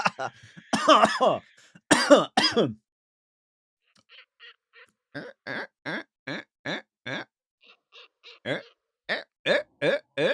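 A person imitates barn owl sounds with their voice: a few rough, raspy screeching bursts, a pause, then a string of short, breathy, evenly spaced hissing calls, close and alone.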